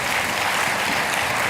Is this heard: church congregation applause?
yes